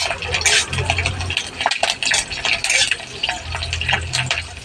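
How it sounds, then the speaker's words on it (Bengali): Neem leaves frying in a pan, with a steady low sizzle under repeated clinks and scrapes of a utensil stirring against the metal, close and fairly loud. "একটু নিম পাতা ভাজতে দিয়েছি"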